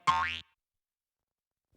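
A cartoon boing sound effect from an animated children's show rings out once, loud and springy with a rising pitch, then gives way to silence.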